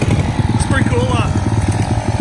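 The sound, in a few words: Suzuki ALT 50 ATV engine revving, burnout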